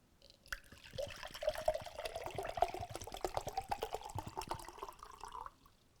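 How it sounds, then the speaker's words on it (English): Water pours steadily from one vessel into another, a continuous trickling, splashing stream lasting several seconds with no voices, close and fairly quiet. "Water moving from one vessel to the other."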